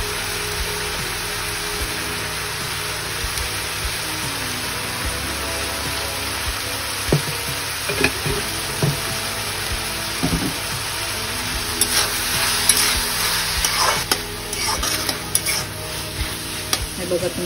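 Onion and tomato frying in a pan for a quick tiffin vegetable dish, a continuous close crackling sizzle with repeated scraping stirs that grow busier toward the end, no one speaking.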